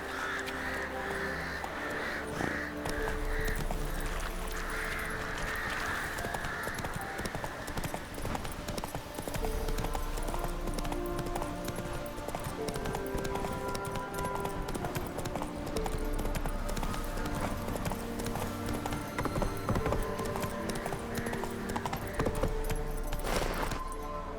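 Roach, the horse in The Witcher 3, clip-clops steadily along, its hoof beats continuing for the whole stretch over a dense game soundscape with crow caws and ambient music.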